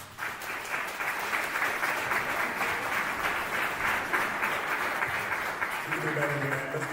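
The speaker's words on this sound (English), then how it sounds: "another wonderful round of applause" Sustained applause from a large crowd, steady and loud throughout, with a few voices cheering underneath before it starts to fade near the end.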